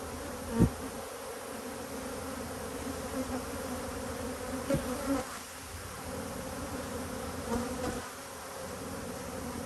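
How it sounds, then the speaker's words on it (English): A dense swarm of honey bees drones at a hive while being smoked and pushed down into the box, the buzzing close and continuous with a few light knocks of hive handling. "I'm trying to force the bees down"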